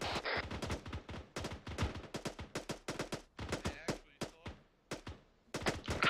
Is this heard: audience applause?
no